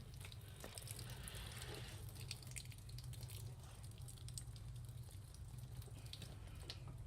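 Water is poured onto a red wiggler worm bin, a faint, continuous trickle and patter of liquid over a quiet background hum, with no talking.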